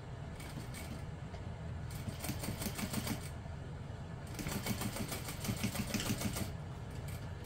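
A sewing machine stitches the seam of a small apothecary handbag, running steadily with a close mechanical whir and a busier, louder burst of stitching in the middle stretch, with no voices.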